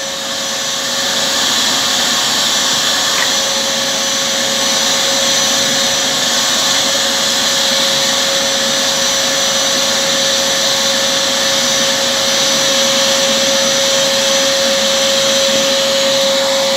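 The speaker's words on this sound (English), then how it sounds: "Why am I hoovering sitting on the floor?" A vacuum cleaner runs loud and close without a break, a steady hoovering roar with a constant whining tone and no talk over it.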